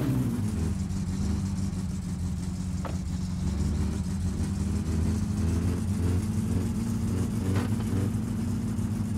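Steady car engine from the My Summer Car video game, a continuous low mid-pitched drone held at constant loud level throughout while driving, with faint occasional clicks and no speech.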